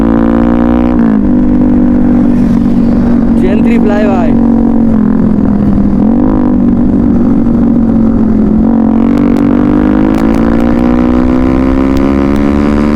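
A Yamaha R15 v3 motorcycle engine runs steadily just after being started, a loud continuous drone that rises slightly near the end, with people talking over it throughout.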